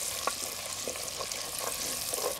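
Large prawns frying in hot oil in a clay pot over an outdoor cooking fire, a steady close sizzle with small crackling pops and a few stirring scrapes throughout.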